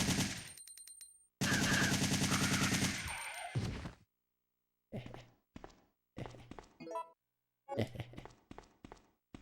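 Gunfire in Resident Evil 3 on GameCube: a long, loud burst of rapid automatic fire opens, followed by shorter clipped bursts and single shots separated by silence.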